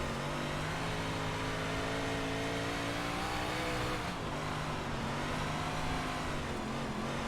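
A dirt 358 modified race car in iRacing at Weedsport holds a steady, loud engine roar with rising and falling revs throughout, with no speech over it.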